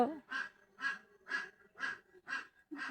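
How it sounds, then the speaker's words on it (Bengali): Village ducks give a run of six evenly spaced, nasal honking quacks, close and fairly quiet, with no talking over them. "দেখেন দেশ গ্রামের হাঁস, আসলে এগুলো কি শহরে সম্ভব?"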